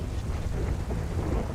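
A thunderstorm in the video game GTA 5 rumbles with low thunder over steady rain and wind, a dense, continuous wash of moderate loudness with no voices.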